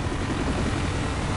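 Police helicopter hovering overhead in the Need for Speed Most Wanted video game, a steady, loud rotor and engine drone that fills the short stretch without a break and without talk.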